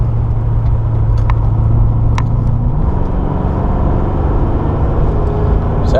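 A big old Lincoln Mark VII on stock brakes drives through corners, its engine a steady close rumble that shifts slightly in pitch partway through.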